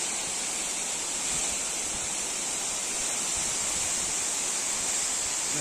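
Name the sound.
waterfall, sound of falling water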